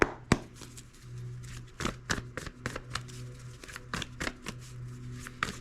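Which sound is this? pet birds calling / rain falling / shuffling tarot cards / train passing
shuffling tarot cards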